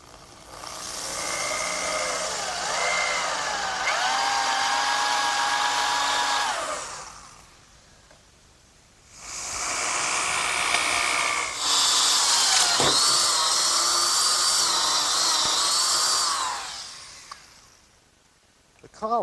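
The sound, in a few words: power drill with 1 3/8 bit drilling through oak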